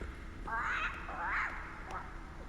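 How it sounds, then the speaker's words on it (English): Crows caw hoarsely, two or three drawn-out calls close by over a low rumbling ambient drone at Firelink Shrine in Dark Souls 3. "in the middle here we have our crows."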